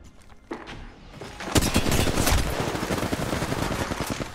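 Rapid automatic gunfire in the mobile shooter game Apex Legends Mobile from an aimbot cheater, a sharp shot followed by a sustained dense burst of rattling reports at moderate level.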